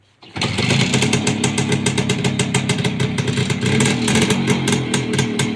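An old motorcycle with an aging carburetor that runs slightly rich starts up abruptly and keeps running close by, a loud, uneven, rapidly pulsing engine note with no speech.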